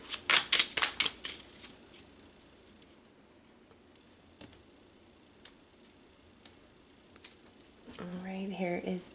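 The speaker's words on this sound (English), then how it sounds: "let's pull one final card" A tarot card drawn from the deck: a quick run of crisp shuffling flicks and taps up front, then a few sparse soft clicks in near silence, before a voice begins talking at the end.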